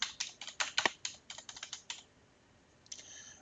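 A computer keyboard typed on while an IP configuration is entered on a desktop PC. Quick, close clacking keystrokes come in a steady burst, then pause, with a couple of fainter taps at the end.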